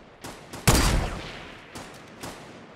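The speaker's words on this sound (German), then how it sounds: "die schießen auf uns" Gunfire in a Fortnite Battle Royale match, a loud burst of shots with a trailing crackle followed by a few quieter, distant pops.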